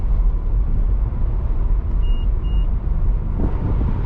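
A 1980s Buick driving on a road, a steady loud low engine and tyre rumble that continues unbroken throughout, with no talk over it.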